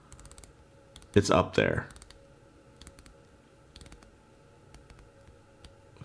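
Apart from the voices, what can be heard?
ratcheting clicks of a Titoni Seascoper 300 watch's 120-click bezel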